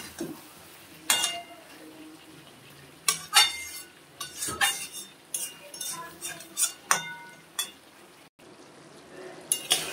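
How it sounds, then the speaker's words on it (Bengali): Chicken with mushrooms being stirred in a pan for a spiced chicken kosha, with irregular scraping and clinking spoon strikes against the pan over a low background sizzle, close and intermittent, and no clear voices. "আমি একটু নেড়ে চেড়ে দেবো খাবার।"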